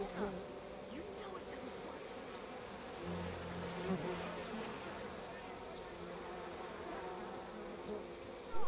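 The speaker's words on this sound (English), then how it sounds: "But there are bees here." Bees buzz steadily around the spot where someone searches for honey, a continuous insect drone with voices speaking faintly over it.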